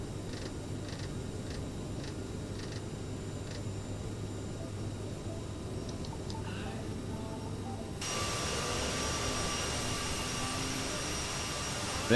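Jet engines of a CRJ airliner taking off in Microsoft Flight Simulator 2020, a steady broadband roar with a low hum that grows louder and brighter partway through, with no talk over it.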